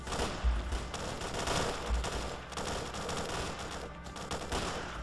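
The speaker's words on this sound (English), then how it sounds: "I still hear shooting everywhere." Gunfire from a battle in STALKER: Clear Sky, bursts of automatic and single shots crackling at a distance, fairly faint and scattered across a few seconds, with no talk.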